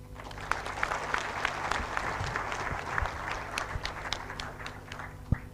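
Applause at an international conference for the Honorable Minister, a moderate crowd clapping with distinct individual hand claps audible within the steady patter, sustained for several seconds at medium distance.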